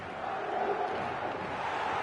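Football match-day stadium crowd roaring in a dense, continuous wash of noise, heard briefly for about two seconds with no distinct voices standing out.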